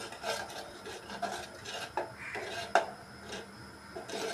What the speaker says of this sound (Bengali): আস্তে আস্তে ঘন হয়ে আসবে, আপনার নেড়ে দিতে হবে বারবার